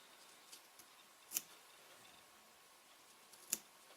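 Scissors snipping small slits in waistcoat fabric during tailoring, with two distinct sharp cuts heard apart from faint lighter ticks, quiet and close.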